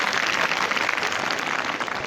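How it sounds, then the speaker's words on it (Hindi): Children clapping loudly together for themselves in a group, a dense, steady wash of applause that holds at even strength throughout. "बहुत ज़ोरदार तालियां बजा लो अपने लिए।"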